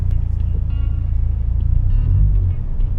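A car driving on the road in daytime, heard as a steady low engine and road rumble from inside the cabin, loud and continuous throughout.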